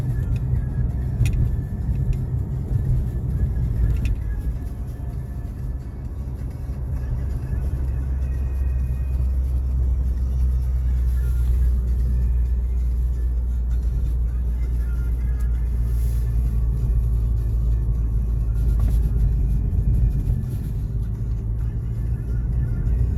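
A 2017 Honda Civic Type R accelerating, with steady, loud low engine rumble and road noise throughout and faint speech now and then.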